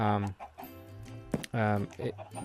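Chickens cluck in Minecraft Bedrock Edition, a few close, repeated squawky calls in short bursts, with a voice faintly present between them.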